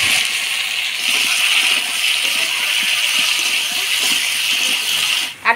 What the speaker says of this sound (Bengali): এবার দিয়ে দিব ভাজে রাখা আলু